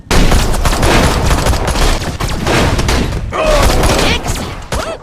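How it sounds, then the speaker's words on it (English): Rapid gunfire from shooting in the Mars Attacks video game comes in loud, dense bursts of close shots and thuds with brief gaps between volleys, no speech over it. "Nice shooting, Crypto!"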